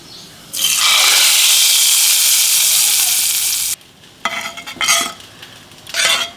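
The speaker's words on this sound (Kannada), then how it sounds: "ಈ ಒಗ್ಗರಣೆನ ಸಾರಿಗೆ ಹಾಕ್ಬಿಡ್ಬೇಕು" A tempering of cumin, asafoetida and chili powder is poured into hot rasam and bursts into a loud, steady sizzle for about three seconds, then falls away to a few clinks and stirring sounds.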